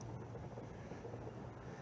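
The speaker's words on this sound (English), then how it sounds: "Hear the rumbling of the train behind us." A low, steady rumble of a distant train heard from woodland in Central Park, Plymouth, rolls on continuously, faint and broad, with no voices.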